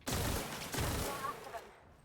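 Acid pistol firing in The Outer Worlds, a close, loud rapid burst of shots lasting about a second and a half before fading out.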